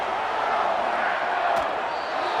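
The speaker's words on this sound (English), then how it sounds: "This crowd turning up the decibel level." Stadium crowd roar from a Madden 25 football game, Packers versus Cardinals, a steady loud broadband wash of massed voices that holds constant throughout with no breaks.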